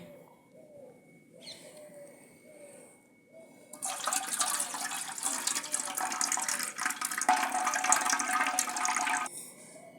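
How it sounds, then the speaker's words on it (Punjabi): Soft pigeon coos, then thickened starchy water from washed wheat flour dough rushes out in a steady pour for several seconds before stopping abruptly. "ਪਾਣੀ ਗਾੜਾ ਹੋ ਗਿਆ ਹੁਣ ਆਪਾਂ ਇਹਨੂੰ ਕੱਢ ਦਿਆਂਗੇ"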